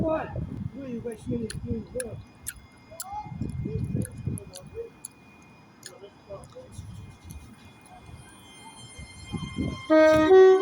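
A Class 43 HST on a ScotRail service pulls into Stirling station and stops nearby, a low rumble with squealing brakes and clanks, heard under station chatter, ending with a brief two-tone horn.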